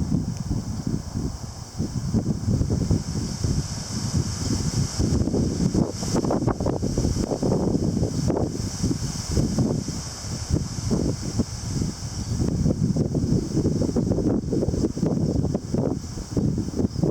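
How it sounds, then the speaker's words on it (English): Strong, gusty wind buffets an outdoor microphone on an early-winter-like day, a continuous roar with surging gusts and broad rumbling bursts throughout, no voices heard. "Definitely windier here today than all the other days."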